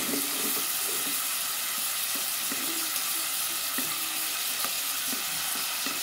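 Garlic fries in a pan with a steady, dense sizzle and a few soft stirring clicks, heard close and alone without any talk.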